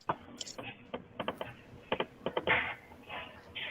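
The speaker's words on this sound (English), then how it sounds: "they're typing in their names and their scores right now" People typing their names and scores on computer keyboards during an online group meeting, scattered quick clicking keystrokes in short bursts, faint and close, with soft background voices.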